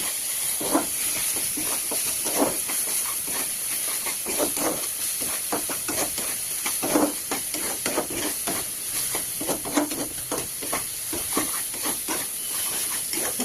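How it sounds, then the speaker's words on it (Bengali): A sweetened spiced masala mixture is sautéed in a pan, with a steady hiss and sizzle under repeated rhythmic scraping strokes of a spatula, close and continuous. "এবার এটাকে ভালো করে কষাবেন"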